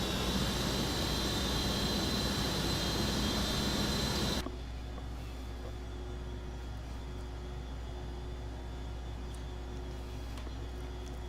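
Steady roar of an Embraer E145 regional jet engine in X-Plane 11 at Dallas-Fort Worth, loud broadband whoosh that abruptly drops to a quieter hum with a faint whine.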